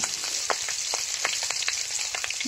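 Chopped onion with ground ginger and a cumin-coriander paste fry in a pan, a steady close sizzle with small crackles and pops throughout.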